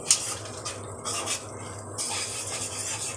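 Ground spices get stirred in a pan for a village-style Tatkini fish curry, a steady scraping, sizzling stir that runs throughout at low volume with no voices.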